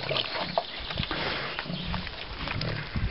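Wild boar piglets grunting and snorting close by while playing in mud, a steady run of low rough grunts with brief squeals over noisy outdoor background.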